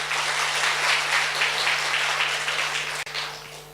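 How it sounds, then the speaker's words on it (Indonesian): Steady, dense applause from a live stand-up comedy audience at Galeri Indonesia Kaya fills the room, holding at an even level with a faint hum beneath and a brief dip near the end. "Tepuk tangan buat kita semua dulu."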